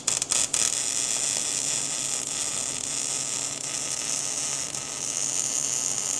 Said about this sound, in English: Hit this with a weld.